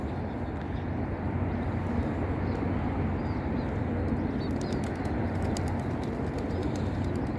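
Pigeons coo at a mosque courtyard in Madina, soft repeated calls over a dense, constant background wash of outdoor ambience and crowd noise, with brief high chirps from other birds.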